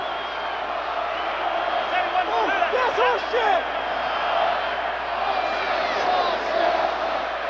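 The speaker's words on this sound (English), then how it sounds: "officials timeout because of the crowd noise" Loud, steady stadium crowd roar at the 1990 Michigan at Ohio State football game in the Horseshoe, a continuous wash of noise with scattered whoops and shouts rising over it.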